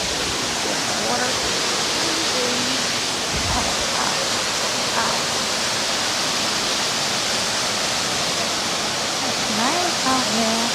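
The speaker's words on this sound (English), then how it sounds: "we made it to a waterfall" A waterfall roars steadily at a camping spot, a loud, continuous rushing wash that fills the whole scene, with a dog nearby and faint voices and birdsong partly audible beneath it.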